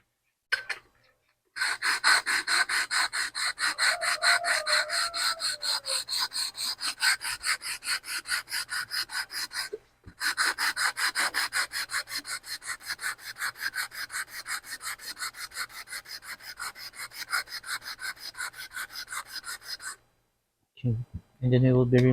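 Glass bottle scrubbed with coarse sandpaper in long, loud, continuous rasping bursts close up, a brief pause midway and another near the end, with no speech.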